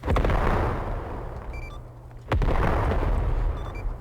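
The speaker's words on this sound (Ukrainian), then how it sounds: "Так, почалась артилерія по вашому селу." Artillery shelling a village in the Arma 3 video game: two heavy booming impacts, each a sharp loud blast trailing into a long rumbling decay, separated by about two seconds, with faint distant pops between.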